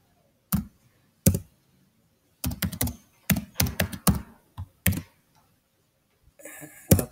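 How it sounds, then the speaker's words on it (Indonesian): An email address is typed on a computer keyboard in scattered bursts of key clicks and taps, close and fairly quiet, separated by short pauses with no talking. "misalnya emailnya kita ketikkan"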